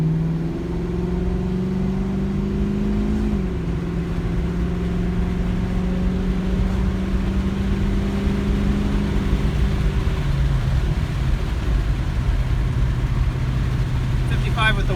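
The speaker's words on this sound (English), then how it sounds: "Let's go to take it for a spin and see how the exhaust sounds." A Mustang GT engine with a welded Thrush muffler exhaust drones steadily from inside the cabin, windows down, its low exhaust hum shifting pitch slightly as the car cruises around 1900 rpm and changes speed.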